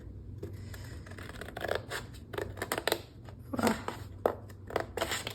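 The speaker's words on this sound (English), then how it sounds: "Get the scissors." Scissors snip through folded paper while a zine is being made, giving a close run of crisp, irregular cuts and rustling scrapes with short pauses between strokes.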